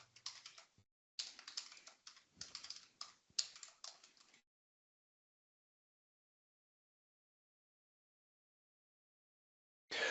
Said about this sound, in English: I will type this one.